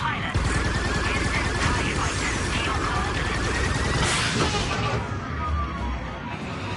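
Rapid ship cannon fire from a starship dogfight in Star Wars Outlaws, a steady dense stream of bursts with a heavy blast near the end, dense and loud with mixed game sound beneath.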